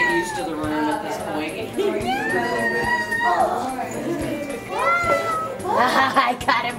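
A cat meows repeatedly in a room, a series of rising and falling cries of varying length, close by and fairly clear, while someone talks to it in between.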